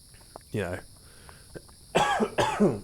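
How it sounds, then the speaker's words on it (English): A few short, harsh coughs burst out close by, between quiet stretches; a brief voiced sound comes earlier, before the coughing. "It was a cough, not a sneeze."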